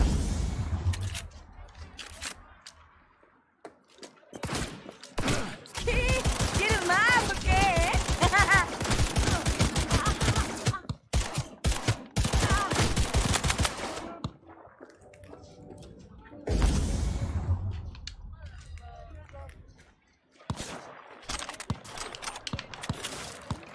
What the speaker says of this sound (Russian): Перестрелка бандитов.